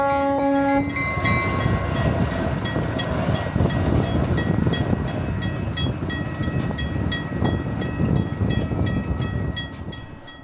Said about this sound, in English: today we're riding behind this little center cab switcher